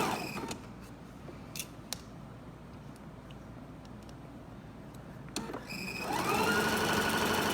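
A sewing machine stitching through quilt fabric, its feed teeth drawing the material along, starts up near the end with a quick rising whir into steady running after a stretch of quiet handling clicks.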